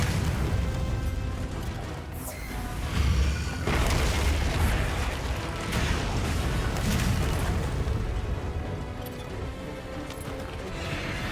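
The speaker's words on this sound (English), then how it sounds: "The crystal exploded." A crystal explodes in the video game Monster Hunter Wilds, a deep booming burst layered over dense, continuous battle noise and rumbling effects, loud throughout with a sharp surge partway through.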